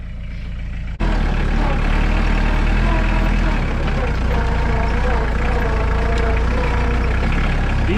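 A tractor straining under heavy hay bales starts its engine with a sharp onset after a quiet second, then settles into a loud, steady, low diesel rumble with a throbbing drone that continues close by for the rest of the clip.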